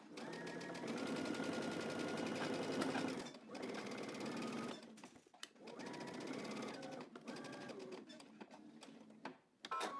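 A sewing machine stitches a seam on a View B vest from Simplicity pattern 8959, back stitching at start and end; the steady close motor whir runs in bursts with brief pauses between passes.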